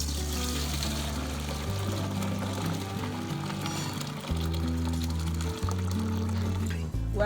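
Water pours and drains steadily as soaked beans for akara are strained, a continuous close splashing trickle with a few shifts in flow and no talking.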